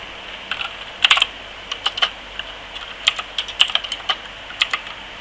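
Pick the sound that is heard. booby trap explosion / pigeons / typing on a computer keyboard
typing on a computer keyboard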